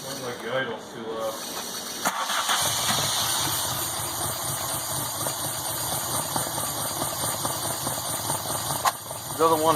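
A VW Mk2 GTI converted to motorcycle carburetors cranks without catching, giving a continuous mechanical whirring and rattling drone with faint hiss, heard at moderate distance with voices.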